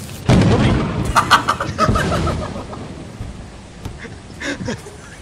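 Thunder cracks and rolls loudly in a video game storm, a sharp blast followed by rumbling decay, with brief later booms and excited voices among the players.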